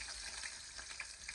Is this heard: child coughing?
no